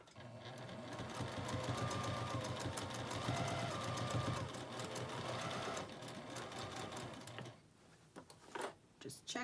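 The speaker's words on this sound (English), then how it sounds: "So just put your needle right down into that seam and start sewing." A sewing machine stitches binding onto a quilt with a steady, close mechanical whirring that runs for several seconds before stopping, followed by a few light clicks and handling sounds; a person talks over it.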